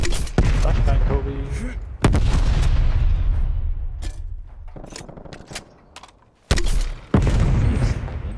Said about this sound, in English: Flashbang, Kobe.